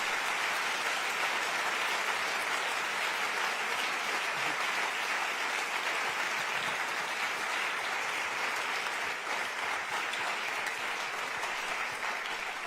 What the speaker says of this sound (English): I would like to ask you to give a big applause to this wonderful team